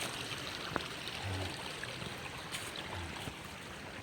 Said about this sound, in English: Yep, it's cascading down into this stream right here.